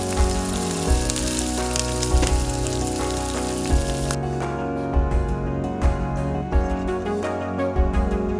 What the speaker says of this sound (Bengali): তারপর কড়াইতে সয়াবিন তেলে এইগুলোকে এক এক করে ভেজে তুলে রাখলাম